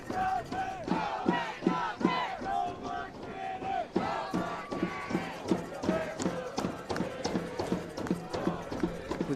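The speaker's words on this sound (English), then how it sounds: "Can hear the Bears supporting Bears starting to cheer" Bears supporters cheer and chant during the closing seconds of a Lenoir-Rhyne women's soccer quarterfinal against Limestone. Rhythmic, pounding beats sound under massed voices rising and falling, close and loud throughout.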